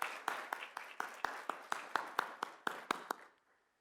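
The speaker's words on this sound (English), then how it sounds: "And we could just give Pilar Nelson a round of applause for her leadership." A small group claps at a community kickoff event, about a dozen separate, evenly spaced claps close by and fairly quiet, fading out into silence.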